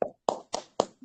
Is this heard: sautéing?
no